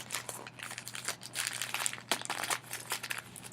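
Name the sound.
newspaper pieces being taped together with masking tape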